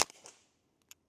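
A single sharp crack from a Ruger Mark IV 22/45 Lite pistol firing CCI ammunition, fading quickly, followed by a faint small click.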